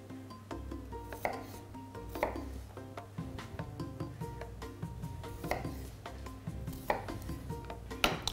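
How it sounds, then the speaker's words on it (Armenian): A knife chops through a fish fillet on a board, cutting it into pieces with steady, close, repeated strokes and no talking. "Հարմար կտորներ են կտրատում նաև փափկամիսը։"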